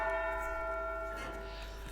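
Church-like bells ring out in the Silent Hill Downpour bell puzzle, a steady sustained chord of tones with long overlapping resonance fading slightly toward the end.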